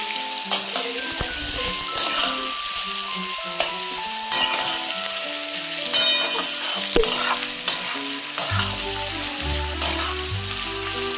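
Chopped onion and potatoes fry in a pan with a steady sizzle, with frequent clinks and scrapes from stirring and low tonal background music underneath.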